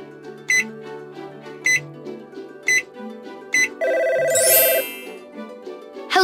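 A phone rings in a kids' lift-safety video game with a repeated electronic trill in short regular bursts, then a brighter chiming jingle, over a steady synthetic background tone.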